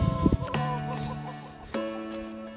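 A backyard hen gives a few close, loud clucks and drawn-out tonal cackles, a short burst of calls separated by a brief pause.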